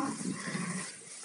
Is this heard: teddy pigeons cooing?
no